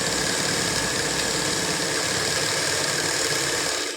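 Continuous mechanical whirring and rapid rhythmic clatter of a sewing machine stitching fabric in a boutique, steady and fairly loud throughout, slowing to a stop at the very end with no talking.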